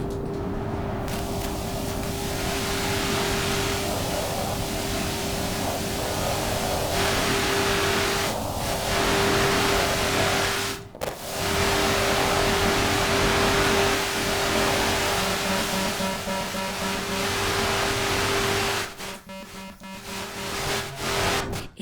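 Dense, loud synthesizer white noise fills the space with a steady hiss and a sustained low tone underneath, broken by a brief dropout midway and a rougher, fluttering stretch near the end.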